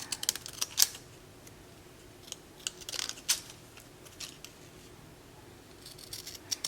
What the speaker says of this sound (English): And then I'm gonna grab my decorative scissors.